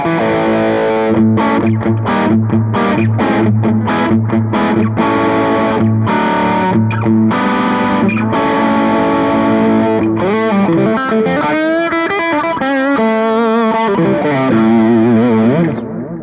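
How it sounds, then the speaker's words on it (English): Electric guitar played through an OCD overdrive pedal and recorded with 57 microphones: crunchy distorted chords and sustained notes ring continuously and loudly for about sixteen seconds, with rhythmic strums early and ringing held notes later, with no talking. "So I'll switch to an overdrive sound. Here is my"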